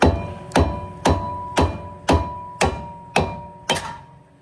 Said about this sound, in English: take your hammer and keep tapping it